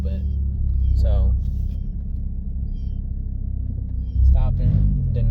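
A manual car bucks while pulling away in first gear, a loud close engine rumble inside the cabin with a brief lurching surge near the end.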